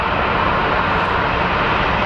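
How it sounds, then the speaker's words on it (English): A FedEx Boeing 777 jet at an airport gives off a loud, steady engine roar, broad and continuous with no break, sounding fairly close. "So that is a FedEx 777."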